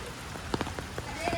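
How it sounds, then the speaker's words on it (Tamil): Heavy rain pours steadily in Panadura, Sri Lanka, a dense constant hiss with a few sharper splashy bursts of drops striking a surface nearby. "மழையும் ஃபாஸ்ட்டாக பெய்யுது"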